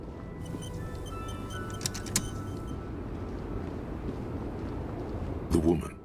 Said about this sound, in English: You close the rusty old lorry.